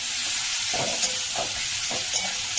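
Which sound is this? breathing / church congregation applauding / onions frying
onions frying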